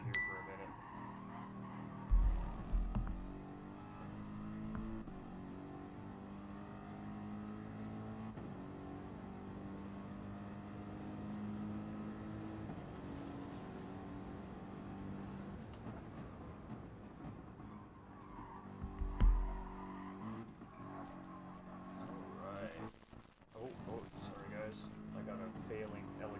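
A Mercedes-AMG GT3 race car's engine drones from onboard during a race, with shifting revs beneath continuous commentary and a couple of brief louder thumps.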